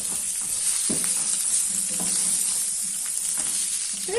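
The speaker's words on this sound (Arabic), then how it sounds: "وغنضيف الصوصيص ديالي باش نقليوه بهاد الزبده والزيت." Sausages frying in a small amount of butter and oil give a steady, loud, close sizzle, with a few soft utensil or pan knocks under the continuous crackle, and no voices.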